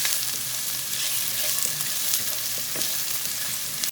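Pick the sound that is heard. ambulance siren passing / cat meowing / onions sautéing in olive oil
onions sautéing in olive oil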